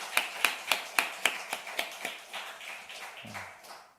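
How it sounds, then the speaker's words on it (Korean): A small group at a church prayer meeting for North Korea mission gives a brief round of applause for a speaker: sharp, fairly quiet claps in a quick run that thin out and fade within a few seconds. "우리 현비파 전사님께 우리 힘내시라고 응원의 박수로, 우리 격려의 박수로 함께 하겠습니다"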